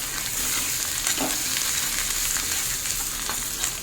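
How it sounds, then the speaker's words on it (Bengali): Ground spices (turmeric, chili powder and coriander-cumin powder) fry in oil in a pan with an even, close sizzle and light stirring scrapes throughout, with no voices. "দেখুন মশলা ভালোভাবে ভাজা হয়ে গেছে"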